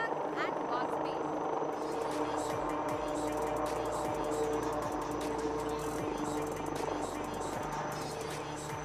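An Indian LUH light utility helicopter lands close by at the Aero India 2021 air show, its rotor thudding steadily with a loud turbine whine and rumble throughout.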